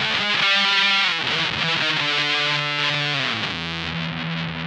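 An Ooh La La Synth Mangler fuzz pedal with both fuzzes on and gain turned up, giving a dense, saturated, noisy distorted tone with shifting stepped pitches, loud and sustained throughout.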